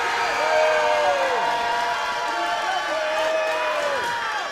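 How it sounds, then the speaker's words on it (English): Crowd at a robot fighting championship cheering, whooping and applauding loudly and continuously, a large dense roar with sustained yells throughout. "That's a lot of cheering."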